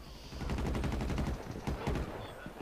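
Rapid automatic gunfire in the video game GTA V during a shootout with federal agents, dense overlapping bursts of shots that go on throughout at close range.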